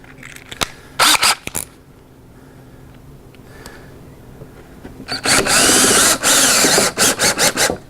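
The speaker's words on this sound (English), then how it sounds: "if you put screws straight through this hardy board, actually I could probably demonstrate that, it'll probably crack on you" A power drill drives a screw into Hardie board, with short whirring bursts early on, a quiet pause, then a long loud grinding run broken into several pulses as the screw bites into the cement board.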